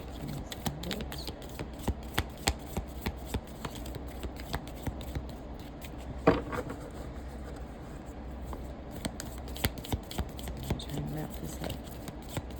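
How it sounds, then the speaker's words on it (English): A deck of cards shuffled and drawn by hand: quiet, soft riffling and papery flicks with sharp little taps scattered through, close up, with faint background voice at times. "I'm gonna pull a couple of these cards for a minute and see what comes out."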